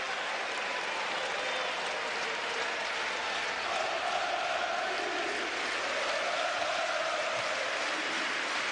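Crowd at a UEFA Futsal Cup final between Madrid and Benfica, a steady wash of cheering and applause from a large arena audience, with swells of louder noise partway through.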